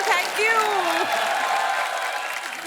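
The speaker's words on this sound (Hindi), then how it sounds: "आप सबकी जोरदार तालियों के बीच" A studio audience on a Hindi TV talk show claps to welcome arriving guests, a short burst of applause with a host's voice talking over it.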